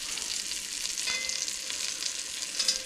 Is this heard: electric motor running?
no